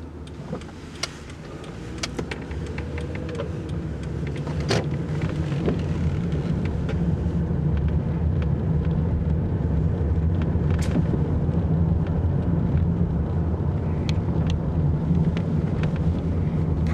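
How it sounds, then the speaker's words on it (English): Inside a moving 2007 Toyota Camry XLE V6, a low continuous rumble of tires on rough pavement builds slightly and holds steady, with scattered small clicks and ticks from the cabin. "Probably all you're actually hearing is just the rumble of poorly maintained roads"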